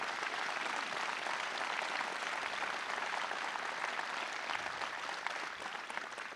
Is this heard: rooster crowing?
no